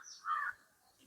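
A single crow caws once near a rubber plantation, a short, faint, rasping call that is heard alone against a quiet background.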